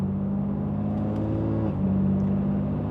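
A BMW S55 engine running catless resonated downpipes in sport mode with the exhaust valves open, a loud, close, steady deep growl that swells and shifts pitch partway through as the revs change.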